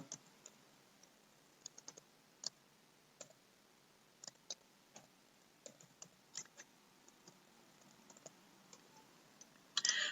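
Keys on a computer keyboard are tapped as a password is typed, quiet irregular clicks scattered in uneven bursts over a soft background hiss, with a denser cluster near the end.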